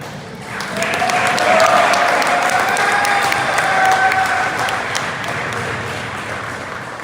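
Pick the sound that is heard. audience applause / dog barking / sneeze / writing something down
audience applause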